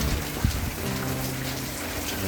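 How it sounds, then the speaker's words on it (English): Steady rain falls outdoors, a continuous hiss of drops hitting surfaces with a faint low thump early on. No one speaks. "Currently still raining"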